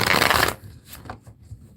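A deck of tarot cards is riffle-shuffled up close, a brief dense burst of rapid flutter that stops abruptly, followed by a few soft handling taps.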